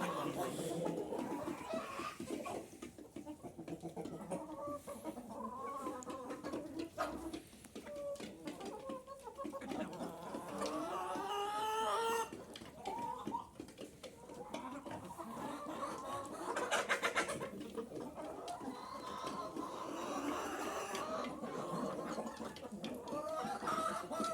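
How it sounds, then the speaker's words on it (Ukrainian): Chickens cluck and roosters crow in a henhouse during an evening round, with the roosters chasing the hens. The calls layer densely and continuously at close range, and turkeys are nearby. "Півні, як завжди, курей ганяють."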